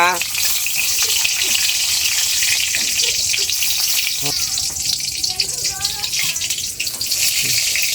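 Bay leaf, potatoes and dried chilies sizzle in hot oil with a steady, bright hiss and crackle, close and continuous, with occasional stirring clinks and faint voices in the background.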